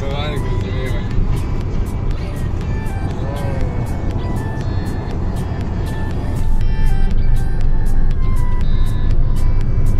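A car drives along steadily with a loud, constant road and engine rumble from inside the cabin, a rhythmic ticking repeating throughout and a rise in loudness partway through; people talk over the noise.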